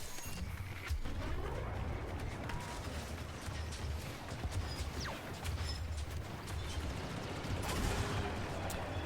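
Chaotic gunfire from a Star Wars Battlefront 2 battle, with dense overlapping shots and blasts forming a steady, busy wash throughout, mid-distance rather than close, no talk.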